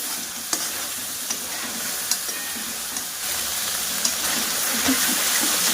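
Ground red masala frying in oil for a drumstick pod curry, a continuous close sizzle with occasional spoon taps and stirring scrapes, steady and fairly loud, no voices.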